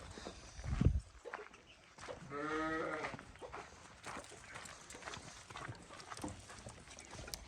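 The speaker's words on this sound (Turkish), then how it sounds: "Koyunları da çıkartmam lazım." Sheep are let out of their pen on a rainy day: one clear, close bleat rises among soft shuffling hoof steps and faint rain-damp background noise.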